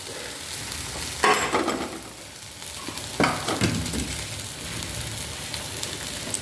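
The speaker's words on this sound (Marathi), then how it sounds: "कांदा भाजलेला आहे आपला चांगला आता त्याच्यात आपण मसाले टाकू" Onion frying in a pan as spices and sesame are added, a steady loud sizzle with a few sharp bursts of spatter and stirring scrapes, no voices.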